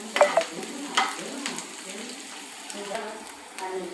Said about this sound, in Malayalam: ഒന്ന് വഴറ്റി കൊടുക്കാം.